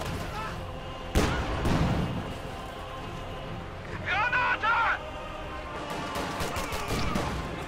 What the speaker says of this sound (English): grenade almost takes down the building the lieutenant is inside of